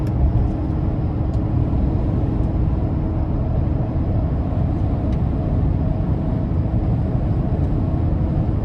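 A 2024 GMC Sierra 2500 HD AT4X AEV pickup pulls hard under acceleration, a steady loud low engine and road rumble heard from inside the cab with no voices.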